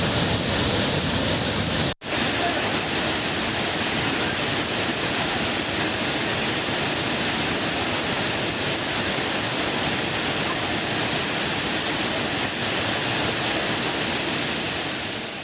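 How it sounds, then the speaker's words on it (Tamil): Hogenakkal waterfall roars in a steady, loud wall of rushing water, with a brief dropout near the start and no voices. "அருவியில் தண்ணீர் ஆர்ப்பரிக்கும் காட்சியை தற்போது பார்க்கலாம்."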